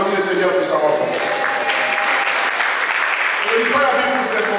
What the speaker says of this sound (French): On applaudit le Seigneur pour savoir pour ça.